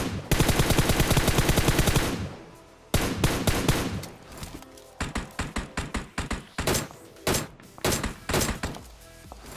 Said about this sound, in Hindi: क्योंकि पीछे से भी कुछ फायरिंग के साउंड आ रहे थे।